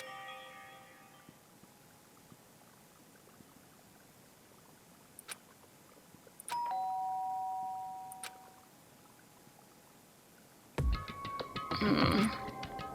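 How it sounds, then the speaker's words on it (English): An in-game doorbell chimes in Danganronpa: Trigger Happy Havoc, a clear ding-dong tone ringing out once over a quiet background. A louder, noisier burst of sound follows near the end. "did I hear the doorbell?"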